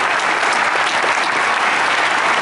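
Audience applause for the JetBlue tech ops team at a Sharklet ceremony in Hangar 81 at JFK, a dense, loud, sustained clapping from a large crowd throughout.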